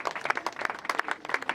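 A church congregation claps in worship, a quick burst of many hands applauding close by in a brief, uneven patter.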